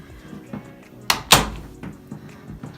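An apartment bathroom door shuts nearby with two quick solid thunks, the second one louder, and faint room noise around them and no talking.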